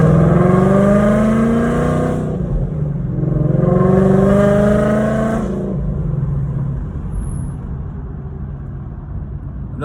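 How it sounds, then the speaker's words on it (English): A 2016 Ford Mustang GT with Brembo brakes revs its exhaust in two strong, rising bursts that fall away, then settles into a deep, steady idle rumble, loud and close with no talk. "be able to hear this little exhaust clip"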